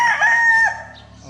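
A Golden Gray gamefowl rooster crows on a farm, a single loud, close crow that fades into a quieter tail near the end.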